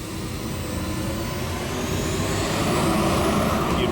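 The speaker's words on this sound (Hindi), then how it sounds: "अब तो इस ड्रोन का पीछाई करना पड़ेगा।" Drone flying overhead, a steady whirring engine drone that swells slightly louder as it passes, heard alone without talk.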